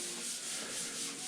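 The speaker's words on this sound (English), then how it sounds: "we're just sanding it and sanding out a few" Continuous abrasive sanding of primer on a 1952 Ford F1 truck body, a steady rough hiss of paper rubbing the surface, close and even throughout.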